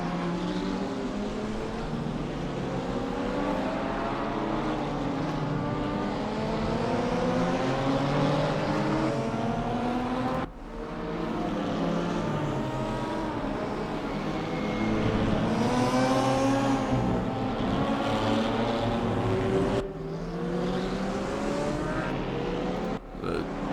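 Two BMW and one Audi GT race cars in the RaceRoom racing game roar past in a tight pack, engines revving and shifting through gears, with loud sustained engine drone and brief gear-change dips.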